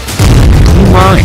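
A loud, close explosion on an empty street in Kharkiv, Ukraine, during the Russia–Ukraine war bursts out and rolls on as a heavy rumbling roar, dense and overwhelming for its short duration.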